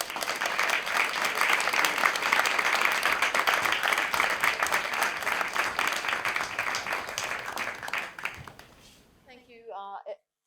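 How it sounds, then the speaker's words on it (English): Audience applause for readers at an MA Creative Writing graduate reading during the LASALLE Show, a sustained, dense round of clapping that thins out near the end, where a brief voice is heard. "So let's give them one last round of applause."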